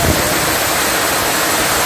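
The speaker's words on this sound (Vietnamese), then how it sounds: "mưa lớn quá lớn luôn" Heavy rain pours down outdoors in a dense, unbroken hiss and rush that stays loud and even throughout, with no talking.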